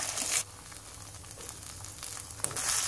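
Tomato puree sizzling in a hot pan while a tomato pickle cooks, a steady hiss that flares brighter at the start and again near the end.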